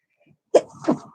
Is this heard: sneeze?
yes